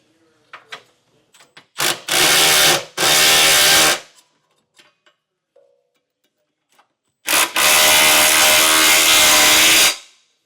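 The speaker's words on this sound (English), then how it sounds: "Now we'll tighten our hardware down with a 3/4 inch socket." A power tool runs a 3/4 inch socket, tightening tow hitch hardware on a 2019 Mazda CX-5, in three loud close bursts of whirring impact: two short runs back to back, then a longer one after a pause.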